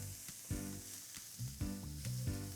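Finely minced carrots frying in a hot pan for shrimp fried rice, a steady close sizzle broken by repeated scraping stirs and low clunks of the utensil.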